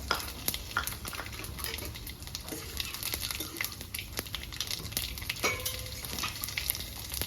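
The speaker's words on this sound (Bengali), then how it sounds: "এগুলো এভাবেই ভেজে নেবো" Whole spices (bay leaves, dried red chillies, cumin, cardamom and cinnamon) fry in hot oil in village-style Bengali cooking, a steady close sizzle broken by scattered stirring scrapes and clicks.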